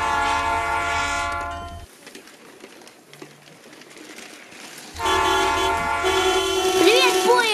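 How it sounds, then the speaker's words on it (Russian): A toy train's horn toots loudly, drops away for a few seconds of quieter rumbling, then sounds again with rising whistle tones. "Привет, поезд! Привет!"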